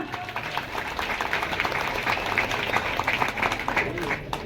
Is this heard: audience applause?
yes